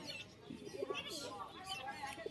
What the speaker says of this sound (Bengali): দুটোই কিন্তু মাদি পায়রা